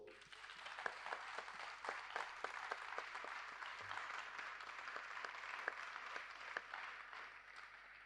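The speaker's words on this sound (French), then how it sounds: "Applaudissez pour lui." A small audience at a talk on accepting difference applauds with scattered, crisp claps over a soft background wash, faint and lasting around eight seconds.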